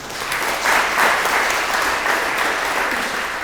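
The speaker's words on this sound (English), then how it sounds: "one more round of applause for Jason" A business seminar audience applauds for Jason, a dense, loud wash of clapping that holds steady for a few seconds and begins to taper off at the end.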